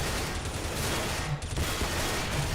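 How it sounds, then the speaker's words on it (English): Dense, continuous gunfire in the shooter game CS:GO fills the whole moment, rapid bursts blending into a loud, noisy barrage. "There was like 2 guys sort of firing at me."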